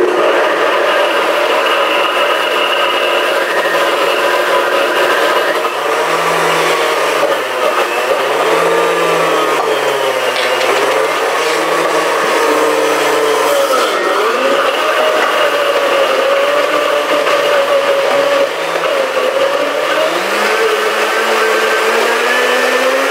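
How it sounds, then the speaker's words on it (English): Blender running continuously to blend protein pudding with berries, a loud close whirring drone whose pitch wavers and dips as the thick mixture loads the motor, steady without pause. "Okay, so I'm going to go ahead and put it in there, and then I'm going to blend it."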